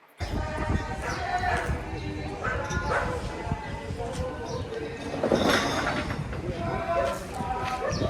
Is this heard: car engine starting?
no